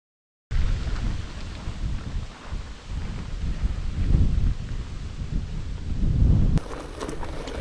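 Strong wind roars and buffets against the microphone during a solo mountain bike ride on the Southern Upland Way in Scotland, with gusting surges and low rumbling throughout and no speech.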